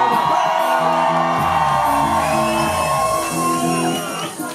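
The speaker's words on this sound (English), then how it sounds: "Give yourselves a round of applause." A loud concert crowd at a gig at the Jolly Farmer in Newton Abbot cheers, whoops and shouts close by. Sustained voices rise over the noise, which eases slightly toward the end.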